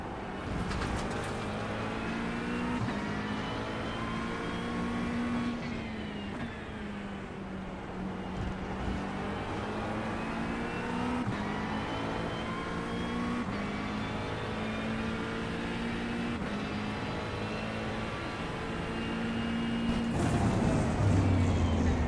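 Race cars in the iRacing sim, a McLaren 720S at Donington, crowding into a turn: several engines drone and rev close together, pitches rising and falling through gear changes, a continuous dense pack of cars.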